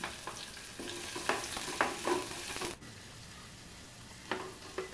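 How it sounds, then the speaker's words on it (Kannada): Onions frying in oil with curry leaves and green chillies, a soft sizzle broken by repeated stirring scrapes and clinks of a spoon against the pan, close and steady with no talking. "ಅದಕ್ಕೆ ಈರುಳ್ಳಿನ ಸೇರಿಸಿ ಫ್ರೈ ಮಾಡ್ಕೊತಾ ಇದ್ದೀನಿ"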